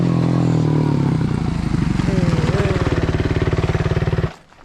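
A Yamaha motorcycle engine running with a loud, rough, pulsing idle that revs briefly, then sputters and suddenly cuts out into near silence as the engine stalls; a voice talks faintly over it.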